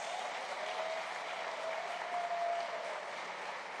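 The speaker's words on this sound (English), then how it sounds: "We also need to give a huge round of applause to our panelists." An audience at a New York City public schools address gives panelists a sustained, even round of clapping heard from within the hall, with no voices over it.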